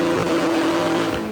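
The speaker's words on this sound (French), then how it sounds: "Là il va décoller la voiture." A Renault RS01 Pikes Peak race car engine roars at high, sustained revs in a tuning shop, a loud, close, continuous blare lasting just over a second.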